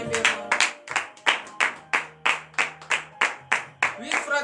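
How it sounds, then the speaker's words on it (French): A church congregation at a Friday morning prayer service in Benin claps in a steady rhythmic beat, about two claps per second, loud and close, with a sustained voice or tone running underneath. "je vous demande d'applaudir très très fort notre Seigneur, notre Dieu ce matin"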